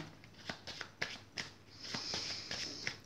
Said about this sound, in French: On va prendre le tarot Grand Luxe, ici, pour faire le tirage en 7 lames.